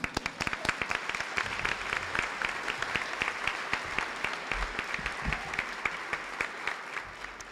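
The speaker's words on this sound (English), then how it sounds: "they deserve a round of applause" Steady, sustained applause from a large crowd at a high school graduation ceremony, many hands clapping together in a dense, even roar, with individual sharp claps popping through throughout.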